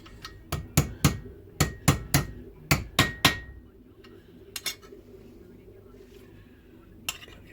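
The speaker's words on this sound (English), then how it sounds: "Right, then let's sort of hammer that over." A ball peen hammer strikes metal on a Ford Cortina in a quick series of about ten sharp, ringing blows, then a pause and a few isolated taps, close up in a quiet workshop.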